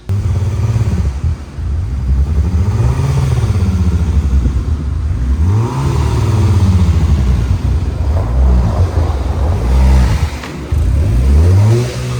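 A cold car engine in -30°F wind chill runs loud and close, rumbling unevenly with surging revs and rough clattering throughout, no voices.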